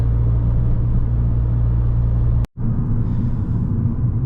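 Abarth 595 engine warming up, a loud, close, steady low idle rumble that cuts out for a moment partway through, then resumes.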